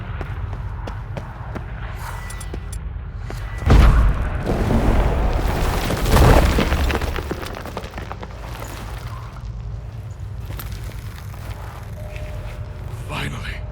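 Stalagmites shattered in The Witcher 3 Next Gen: two heavy, rumbling booms a couple of seconds apart rise above a background of movement and footsteps, then fade back to ambient cave noise.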